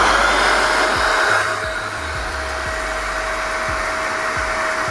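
A spray gun fitted with a custom nozzle hisses and roars steadily up close, a loud continuous airy rush without pause.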